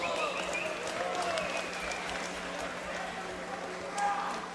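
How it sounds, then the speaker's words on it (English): An amateur fight crowd claps and cheers from a distance, a steady wash of applause with scattered whistles rising and fading, while people talk underneath. "Give them one more round of applause."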